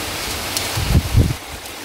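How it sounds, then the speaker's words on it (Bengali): Heavy rain pours in a steady, close wash of noise, with a couple of dull low thumps in the middle. "বাপরে, ভালো বৃষ্টি হচ্ছে।"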